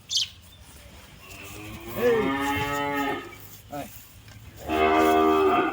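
A Holstein Friesian dairy cow moos nearby on a farm, several drawn-out lowing calls with a short grunt between them, over quiet outdoor background.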